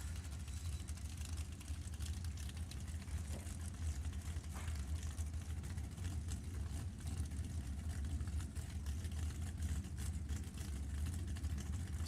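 Drag racing cars' engines rumble at a racetrack during the Pacific National Open, a continuous, loud, low engine roar that holds steady throughout with no voices.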